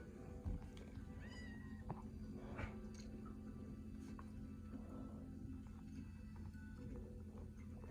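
A Minecraft cat meows a few times, faint and brief, over a low steady hum with small clicks.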